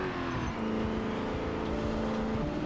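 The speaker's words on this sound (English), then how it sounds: "Cars are so loud, that's the thing." Car engine in the zombie survival game Project Zomboid, a loud, close, steady running drone with slight shifts in pitch as it revs, continuous throughout with no voices over it.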